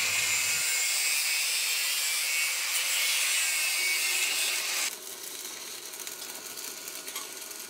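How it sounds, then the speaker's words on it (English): A hand saw cuts through a metal axle for a pedal-powered machine's flywheel, a continuous loud rasping stroke that drops to a quieter, finer grind partway through. "So we have to saw that and weld that onto the flywheel."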